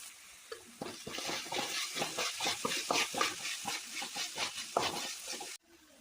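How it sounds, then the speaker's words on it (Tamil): Chopped banana flower and onions sautéing in a pan, a steady sizzle broken by repeated stirring scrapes in a loose rhythm, close and fairly loud, cutting off abruptly near the end; no talking. "இப்போ நம்ம கட் பண்ணி வச்சிருக்கிறது எல்லாத்தையும் ஒண்ணா போட்டு நம்ம வதக்கி எடுத்துக்கலாம்"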